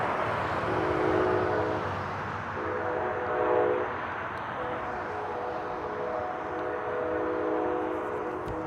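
A train rumbles past close by through a town at night in Stockbridge, Georgia, with long sustained horn blasts sounding repeatedly over the steady roar of the wheels.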